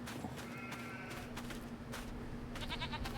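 Farmyard goats in Farming Simulator 25 bleat repeatedly in short, wavering calls over a steady low game hum, several overlapping bleats close by with no talking.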